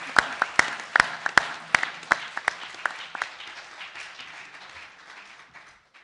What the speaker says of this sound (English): I kindly invite you to once more applaud to Isma